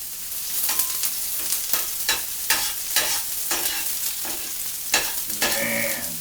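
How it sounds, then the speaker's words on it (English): Garlic and onions sauté in oil on a hot stove, a steady close sizzle broken by repeated scraping stirs with a utensil, with no voices. "Nothing like garlic cooking on a hot stove."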